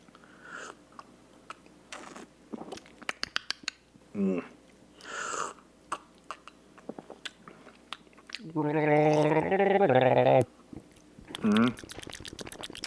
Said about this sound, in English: with this one, you definitely need to get a good gargle in there